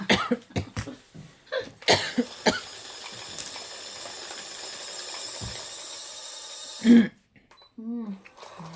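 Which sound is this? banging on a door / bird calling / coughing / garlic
coughing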